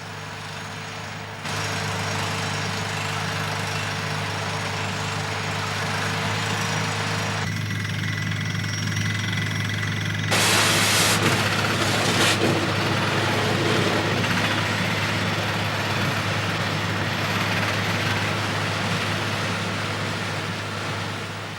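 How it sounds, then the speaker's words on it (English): A drilling rig bores holes deep into limestone, giving a continuous loud mechanical drone with a steady low hum and gritty rattling that grows harsher partway through, without any voices. "A special rig drills holes deep down under the limestone surface."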